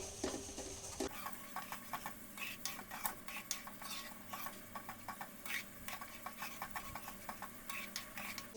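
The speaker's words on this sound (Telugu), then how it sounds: "చూసారా, ఇలా ముద్దగా వేస్తాం, కలబెడుతూ ఉండాలన్నమాట" Poda pitha batter is stirred in a pan over a flame. A steady run of soft, close scraping and tapping strokes repeats quietly, with a faint sizzle underneath.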